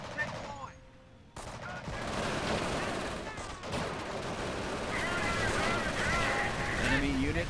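Gunfire in the Company of Heroes video game, with rapid machine-gun bursts and scattered rifle shots crackling over a dense battle din, steady and close, while a voice speaks briefly partway through.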